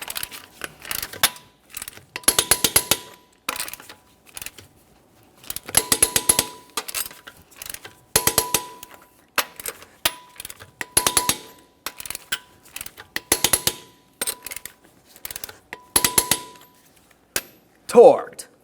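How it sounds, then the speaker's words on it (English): A torque wrench tightens the front wheel lug nuts on a 2017-2024 GMC Acadia in a crisscross pattern, giving repeated sharp metallic clicks in bursts with short pauses, ending in a brief ratchet sound. "We're going to torque both side front wheels to 140 in a crisscross manner"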